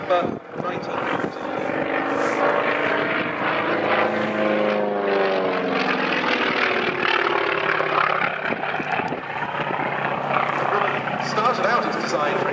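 A Grumman FM2 Wildcat fighter powered by a 1820 air-cooled radial engine of 1,350 horsepower with water methanol injection, flying past at an airshow, a loud sustained propeller drone with a shifting pitch as it passes, while someone talks over it.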